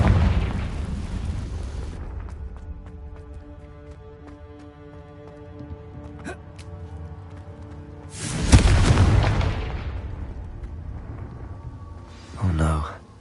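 Blasting spell explosions in the Hogwarts Legacy video game: a loud booming burst with a rumbling tail near the middle, a shorter blast near the end, and game music and sustained tones underneath.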